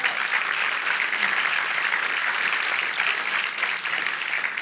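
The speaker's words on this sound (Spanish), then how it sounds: "Denle un aplauso al Señor." A church congregation applauds for the Lord during a Spanish-language sermon, a sustained, full wash of many hands clapping at steady volume throughout.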